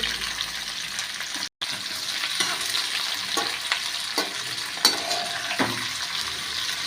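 A batch of amla (Indian gooseberry) pickle made from two kilos of gooseberries is stirred continuously in a hot pan, with steady sizzling and wet scraping and clacking of the spoon, close up and without talking.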